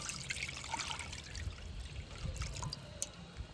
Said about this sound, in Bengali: খুব সুন্দরভাবে যে টক দইয়ের থেকে এক্সট্রা জলটা আছে ঝরে পড়ছে।